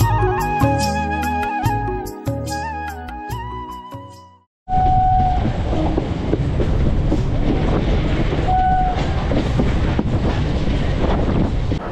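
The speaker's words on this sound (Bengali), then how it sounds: "এবারে আমাদের ট্রেন ঢুকছে কিন্তু পার্ক সার্কাস স্টেশনে।" A Kolkata local train running into Park Circus station, a loud rumbling roar with wind buffeting and rhythmic rail clatter; a short stretch of music plays before the train noise takes over.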